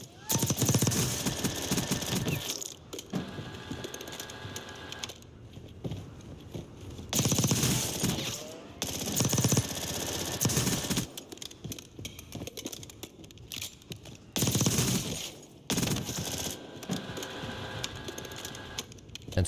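A PPSh submachine gun fires in Black Ops 6 in several rapid, sustained bursts, each lasting a second or two and separated by short gaps. The shots sit close and loud.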